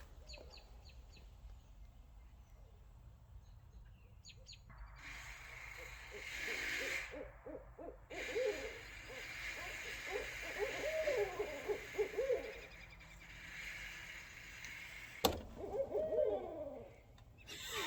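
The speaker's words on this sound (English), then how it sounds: "I love to hear the hoot owl." Hoot owls calling at night, a series of deep, wavering hoots from nearby birds, some louder and closer, others fainter, repeating over a quiet background.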